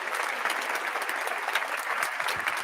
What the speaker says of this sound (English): let's give Alex Lopez a round of applause